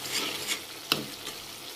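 Paneer masala gravy stirred and cooking in a pan, a soft continuous sizzle with faint scraping strokes and one brief sharper tap, close and quiet.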